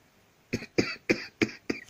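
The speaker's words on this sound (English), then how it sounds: "That was an intentional cough, not an accidental one." Five sharp coughs in quick succession, close and loud, each a short harsh burst with brief gaps between.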